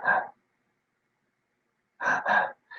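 A woman imitates laboured, shallow breathing as experienced with Covid in intensive care: a short gasp, a long pause, then two quick strained breaths and a faint final catch, close and alone.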